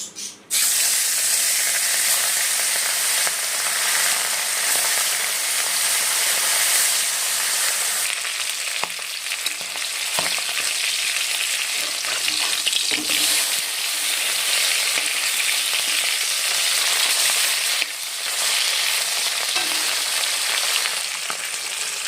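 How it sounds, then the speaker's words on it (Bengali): Khoira fish fry in hot oil in a wok, a loud, steady sizzle and hiss filling the whole stretch, with scattered crackles, pops and occasional utensil clicks. "তেল গরম হয়ে গেছে এখন একে একে মাছগুলো দিয়ে দেবো"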